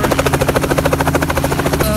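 A helicopter's rotor thumps rapidly and steadily over Charleston Harbor, loud and close, with a continuous engine whine underneath.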